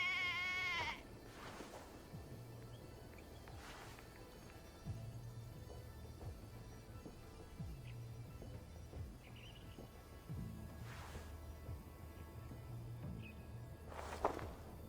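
Sheep in the Assassin's Creed Valhalla game bleat a few times, one clear bleat near the start and fainter ones later, over soft footsteps and ambient game sound, with no talking.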